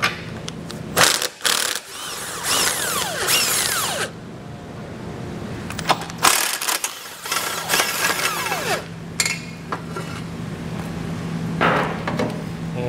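Two 17 mm nuts being removed from the impact bar of a 2020 Mini Cooper with a power impact tool, loud whirring bursts broken by short pauses and ratcheting clicks, close up and with no talk.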